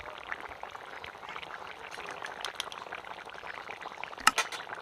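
Bengali pumpkin and paneer curry boils in a pot with a soft, steady bubbling and gentle liquid burbles, close and quiet, ending with a brief clink.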